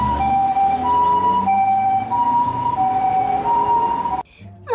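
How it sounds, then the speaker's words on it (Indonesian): A toy ambulance lets out its siren: a loud electronic two-tone wail alternating steadily for about four seconds before cutting off abruptly. "Keluarlah mobil ambulan."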